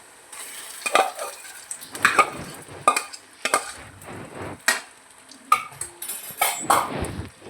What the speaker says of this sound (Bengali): আলুটা দিয়ে একটু নাড়াচাড়া করে নামিয়ে রেখে দেবো।